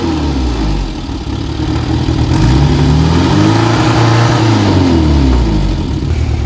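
A classic Mini engine revs loudly and steadily at close range as the car is driven up onto a trailer, its pitch rising and falling with the throttle.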